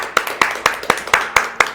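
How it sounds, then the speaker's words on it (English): A small community group at a spring kickoff event claps in slow, even unison, about seven sharp, close claps spaced roughly a quarter second apart. "Let's give ourselves a hand"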